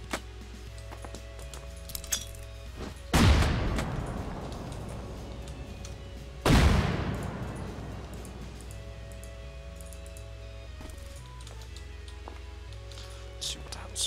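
Two loud grenade explosions in the Rust video game, each a sharp blast followed by a long fading rumble, a few seconds apart over quiet ambient noise.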